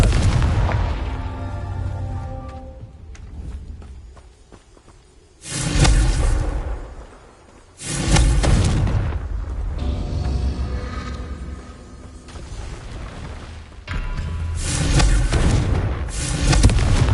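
Confringo fire spell blasts in Hogwarts Legacy, played on PS5: three loud booming bursts with whooshing fire, separated by gaps of quieter rumbling game ambience.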